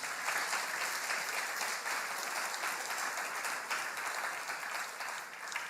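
A church congregation claps during a sermon, dense steady applause from a crowd that holds evenly throughout at moderate loudness.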